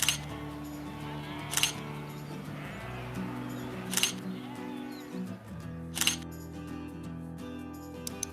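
Sheep carrying 360 cameras on their backs bleat a few times over a steady background hum, with sharp clicking bursts recurring every couple of seconds.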